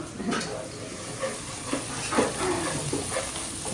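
Onions sauté in a pan for fish curry with a soft, steady sizzle, broken by a few light scrapes and clinks of stirring against the pan at irregular intervals.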